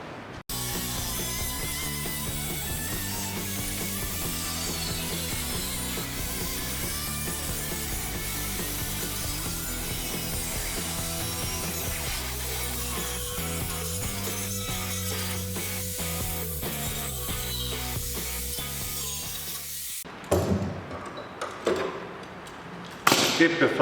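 A power tool cuts through the roof panel of a donor Kia Sportage. A loud, steady mechanical whine and grinding drone lasts about twenty seconds, then stops, followed by a few clanks and handling noises.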